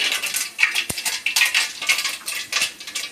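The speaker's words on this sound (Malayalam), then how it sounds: "കുറച്ച് ഒരു 1/2 സ്പൂൺ ഉലുവ ഇട്ട് കൊടുക്കാം." Fenugreek seeds tipped into a pan with mustard seeds for tomato pickle, making a loud, rapid patter of tiny seeds popping and rattling against metal, with one sharp clink of a spoon.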